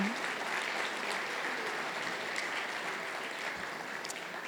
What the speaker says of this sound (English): please let's get a round of applause for everyone